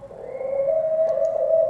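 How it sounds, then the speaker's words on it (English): Pet doves coo indoors, a steady low, drawn-out coo that is fairly loud and close, with no talking. "They're actually my sister's lovebirds, or not lovebirds, doves."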